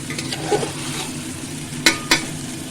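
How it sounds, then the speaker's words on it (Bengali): Soaked rice being gently stirred and lightly fried in a pan for vegetable pulao, a soft frying hiss with light scraping, then two sharp clinks of the utensil against the pan near the end. "সেই চালটা একটু নেড়ে দেবো হালকা হাতে"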